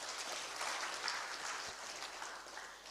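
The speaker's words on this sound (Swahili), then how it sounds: "Jipigeni makofi." Applause from an audience at a youth dialogue on the maritime and shipping industry in Mombasa, a steady, fairly quiet patter of many hands clapping together for a few seconds.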